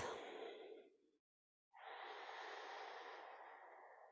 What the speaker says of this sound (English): take a few real big grounding breaths before your day begins